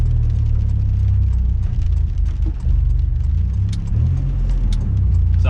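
A Nissan Navara with a VG30 engine accelerates hard, skipping second and pulling through in third: loud, steady engine roar with a low rumbling drone, close to the listener and heard continuously with no talking.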